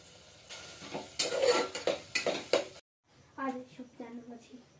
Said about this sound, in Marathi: घेवडा टाकून व्यवस्थित परतून घेतला. आता फक्त तांदूळ टाकायचे.